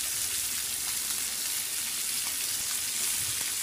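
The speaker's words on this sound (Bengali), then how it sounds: "মাছ আমার এক পিঠ ভাজা হয়ে গিয়েছে। এখন আমি মাছটা উল্টিয়ে দিচ্ছি।" Punna fish frying in oil in a wok over a high flame while the pieces are turned one by one: a soft, continuous close-up sizzle with no voices.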